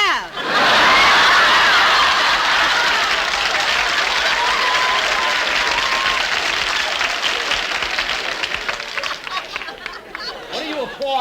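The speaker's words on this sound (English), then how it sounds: "What are you applauding?" A studio audience breaks into loud, sustained applause mixed with laughter and chatter, gradually thinning toward the end.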